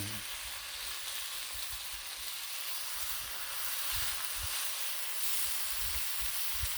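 Bacon cooks slowly on a low-heat Blackstone griddle, giving a constant, close hiss and crackle of sizzling fat with scattered pops throughout.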